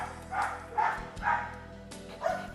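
Dogs at a dog training kennel with fenced outdoor yards bark in several separate, fairly loud bursts spaced about half a second to a second apart, with a short yelping edge and no talking.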